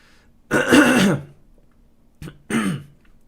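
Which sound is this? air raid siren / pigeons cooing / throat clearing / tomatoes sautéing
throat clearing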